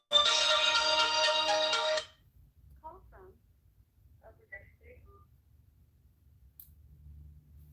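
A telephone ringtone for an incoming call to a live call-in radio show chirps loudly in a steady electronic pattern for about two seconds, then stops, leaving faint clicks and low background rumble.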